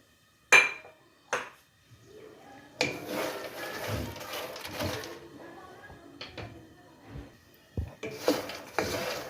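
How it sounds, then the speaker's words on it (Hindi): Lotus seeds (makhana) tipped into melted desi ghee in a pan for sweet makhana, with a few sharp clinks of utensil on pan, then scraping and stirring clatter, a voice speaking briefly in between. "जी, अब मैं इसमें डालूँगी मखाने"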